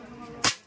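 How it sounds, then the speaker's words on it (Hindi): A Dan Wesson 2.5-inch CO2 revolver fires once at bottles, a single sharp near pop that fades quickly after faint background speech. "इधर से जो थर्ड बोतल है हम उसको फायर करेंगे"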